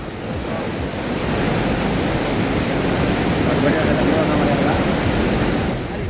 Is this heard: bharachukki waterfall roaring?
yes